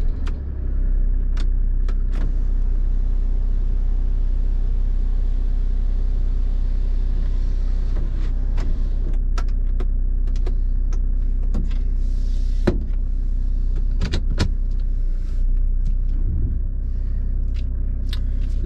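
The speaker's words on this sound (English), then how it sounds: "Gonna take this 1998 Mercedes-Benz E300 Turbodiesel out for a little drive." A 1998 Mercedes-Benz E300 Turbodiesel drives with a steady, close interior rumble of engine and road noise, broken by occasional clicks and small rattles.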